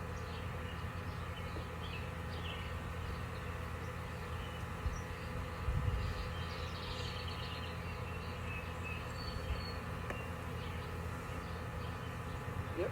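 Honeybees in an apitherapy hive being installed, a steady, dense low buzz of many insects that holds at an even level the whole way through, with brief faint knocks and stirrings now and then.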